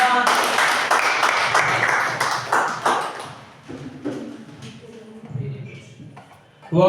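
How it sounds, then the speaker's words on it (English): A small audience in a spoken English classroom claps for a student speaker with a quick run of crisp, close hand claps lasting a few seconds. Scattered softer claps and brief talk follow as it fades. "Claps to Adnan"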